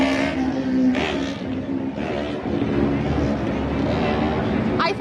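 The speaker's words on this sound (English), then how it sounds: "Oh, it's a motorcycle." A motorcycle engine on a busy Manhattan street, its steady rumble running beneath city noise, with people talking over it nearby.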